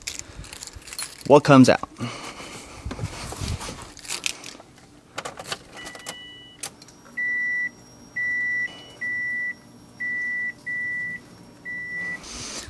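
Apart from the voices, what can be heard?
car ignition turned on, fuel pump running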